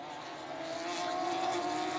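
Radical race cars lapping the Snetterton circuit, their engines a steady, broad roar growing slightly louder as they approach, with no talk.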